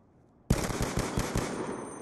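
A rapid burst of automatic gunfire in Call of Duty: Black Ops II starts suddenly after a brief silence, with about six loud, closely spaced shots followed by a ringing tail.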